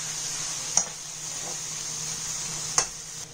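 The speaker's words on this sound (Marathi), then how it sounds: "कांदा काळे वाटाणे सगळं छान सं मिक्स करून घ्यायचं." Raw jackfruit sabji with onion and black peas stirred in a pan, a steady faint sizzle broken by two sharp spoon clinks against the pot.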